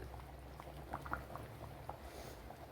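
Kingfish curry simmers on a low flame, giving faint, soft bubbling and scattered small pops over a quiet, steady background.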